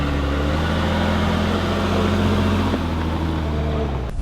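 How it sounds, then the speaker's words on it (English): A Jeep Trailhawk off-road vehicle climbing a trail obstacle with some wheel spin, its engine droning steadily and loudly close by, straining evenly, then cutting off abruptly at the end. "A little bit of wheel spin, and voila, we're up and over."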